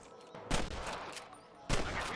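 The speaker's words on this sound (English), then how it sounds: "I can hear more gunshots." Two sharp gunshots ring out in a Red Dead Redemption firefight, each a loud broadband crack with a short decaying tail, spaced about a second apart over low game ambience.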